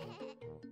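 Short, fairly faint sheep bleats in the My Friend Peppa Pig video game, with two quick wavering calls one after the other.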